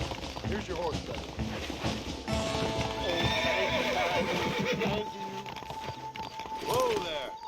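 In the video game Red Dead Redemption, rapid horse hooves clip-clop steadily while a horse whinnies, with voices talking over the galloping.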